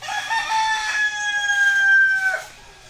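A backyard rooster at a chicken coop crows once, a long drawn-out call that rises and holds before trailing off, loud and fairly close with no talk over it.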